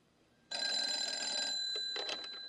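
A telephone bell rings loudly and close with a continuous metallic trill that starts abruptly and keeps going to the end, in a film scene, with no talk.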